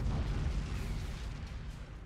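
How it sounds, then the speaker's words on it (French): A cannon shot booms in the space combat game Battlefleet Gothic Armada II, a dense low rumble that fills the moment and slowly fades without any voices. "Il y a un coup de canon"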